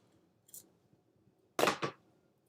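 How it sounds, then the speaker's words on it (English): Scissors snip through a length of Stampin' Up red ribbon: a light first cut, then two sharp, close, loud snips in quick succession against a quiet room. "And this ribbon is from Stampin' Up. Real red is the color. I'm just going to snip that off."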